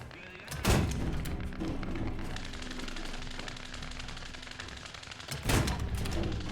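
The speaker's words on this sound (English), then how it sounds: "I think these fuses are exploding way before they get near him" Anti-aircraft shells bursting in War Thunder: two sharp, separate blasts a few seconds apart over a steady droning engine and rattling background of gunfire.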